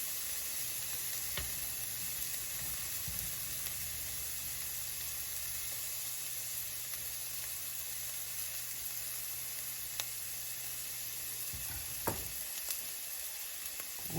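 Minced garlic sizzling in a pot at the start of a white chicken chili, a quiet, steady hiss of frying with an occasional light clink, no voices.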